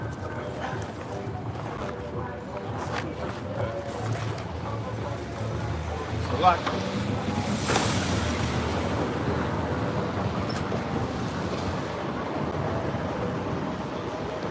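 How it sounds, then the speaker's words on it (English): Wind blows steadily outdoors, a low broadband rush that buffets a nearby microphone, with a voice speaking briefly over it. "Kind of windy out here."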